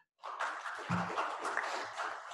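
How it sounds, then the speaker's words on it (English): Applause at a sustainable development forum welcomes a guest, a short burst of soft, smeared clapping from a small audience that sounds somewhat muffled and distant. "Let us please show a round of applause for Brian."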